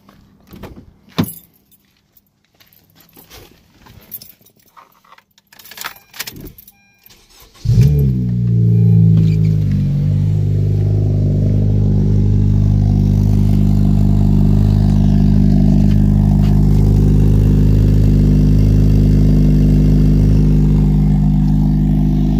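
A ninth-generation Honda Civic starts after some clattering and jingling, then idles loudly with a deep, raspy exhaust drone that holds steady; its resonator and muffler are removed.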